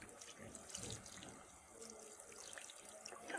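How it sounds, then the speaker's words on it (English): A sink faucet runs steadily while hands are rinsed from wrist to fingertips. The faint, hissing flow has light splashes and shifting trickles throughout. "she's going to rinse from the wrist to the fingertips"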